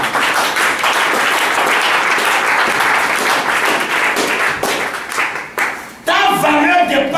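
An audience at a talk claps loudly and continuously. The applause dips and fades near the end, then a voice speaks over the room.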